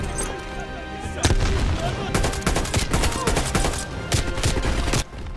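A mounted turret machine gun in Call of Duty Black Ops Cold War pounds out loud, dense rapid bursts nearly throughout, with a brief pause early and another near the end, booming over a low game soundtrack.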